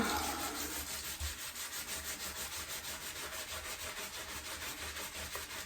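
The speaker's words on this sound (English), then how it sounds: "then just take your scrubbing pad and scrub, scrub, scrub" A scrubbing pad rubbed briskly back and forth over a dug glass bottle, a dense rhythmic scratchy swish repeating about four times a second, close and steady with no talk.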